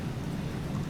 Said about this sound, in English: Nice rainy day.